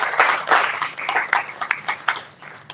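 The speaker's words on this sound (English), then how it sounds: "I thought you should clap for that" Audience applause in a hall during a talk on educational equity and digital literacy in Nigerian colleges of education, a dense, steady wash of many hands clapping for a few seconds, moderately loud with no talking.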